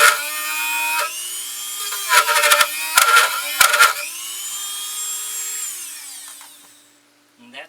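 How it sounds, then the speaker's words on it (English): A Dremel rotary tool carving into a wooden ventriloquist dummy: a high-pitched steady whine, close and loud, with several short bursts of grinding as the bit bites the wood, then spinning down to silence. "now I'm going to use this Dremel"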